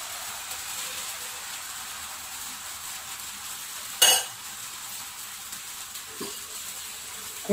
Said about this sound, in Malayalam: സിമ്മിൽ വെച്ചിട്ടാണ് ഇപ്പൊ മാവ് ഒഴിച്ചു കൊടുത്തിരിക്കുന്നത്